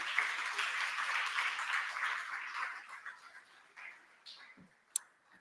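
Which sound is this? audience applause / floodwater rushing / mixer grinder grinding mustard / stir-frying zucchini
audience applause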